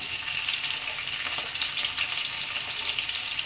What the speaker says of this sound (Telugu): ఈ రెండు ఎండు మనకి బాగా ఫ్రై అవ్వాలండి ఆయిల్లో